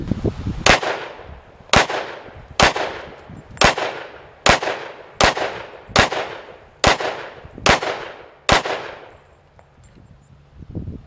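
Glock 27 pocket pistol firing Federal HST .40 S&W 165-grain rounds: ten loud, sharp shots at a steady pace about one per second, each with a brief ringing tail, then quiet, no voices.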